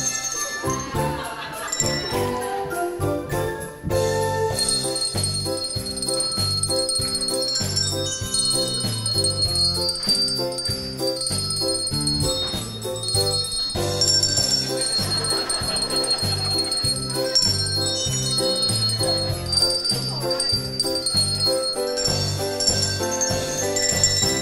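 A handbell choir plays Christmas songs such as Jingle Bells, with bright ringing bells layered into dense, loud, continuous music.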